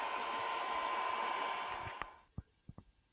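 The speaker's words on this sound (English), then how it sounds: "the shoe dryer we're using is the Shoe Fresh" A Shoe Fresh 300 watt shoe dryer runs with a steady, broadband blowing hiss that fades out after about two seconds, followed by a few faint clicks and knocks.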